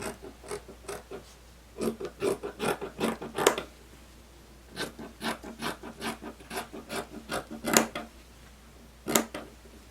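Scissors cut through blouse fabric in a series of short crisp snips, grouped in quick bursts with brief pauses between them, close up and fairly quiet.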